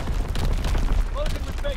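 In a Call of Duty WW2 multiplayer match, incoming enemy artillery lands in a rapid run of heavy booms and rumbling blasts, loud and close, while game voices and a player's talk sound over the barrage.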